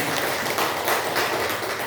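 Clapping for a group of primary school teachers at a school training session, a steady, dense wash of many hands carrying on evenly for the whole moment with no voices over it.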